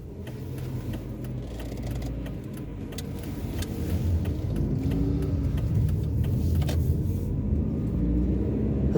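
Car driving along Drift Road in Cape Town between Plumstead and Constantia on a winter day, heard from inside as a steady, close engine and road rumble that builds slightly, with faint rattles.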